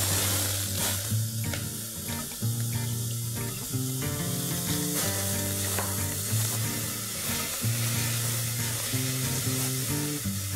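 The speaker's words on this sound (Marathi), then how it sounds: "तेल चांगलं तापलं की आपण 2 कांदे बारीक चिरलेले फोडणीला घालूया." Two finely chopped onions hit five tablespoons of hot oil in a pressure cooker for Malvani mutton curry, a loud, dense, continuous crackling sizzle close up, with occasional stirring knocks and no speech.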